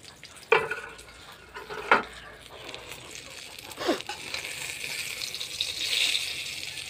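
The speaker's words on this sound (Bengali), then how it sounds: "বেগুন ভাজা করলাম" Eggplant slices frying in a pan, a soft steady sizzle with a few sharp clicks of utensils and stirring, under background noise.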